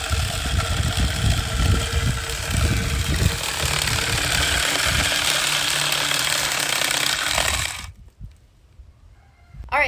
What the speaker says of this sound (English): I'm first going to test out this little chainsaw and see how it does on this little limb